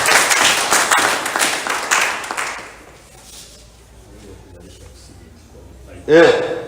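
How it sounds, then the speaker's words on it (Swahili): A crowd applauds loudly with dense clapping that fades away over a few seconds, then a voice briefly speaks, at a political rally. "Piga makofi kwa Dr. Samia"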